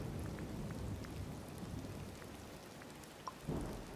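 Rain falls in Disney Dreamlight Valley, a steady soft patter spread evenly throughout, with a couple of brief louder splashes near the end and no talking.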